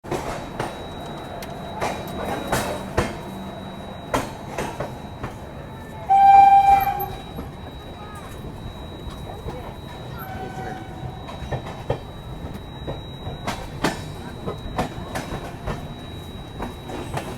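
Brahmaputra Mail train running on rails approaching the Mokama halt, a steady rolling rumble with scattered clicks and rattles throughout, and a brief loud tonal burst near the middle like a horn or brake squeal.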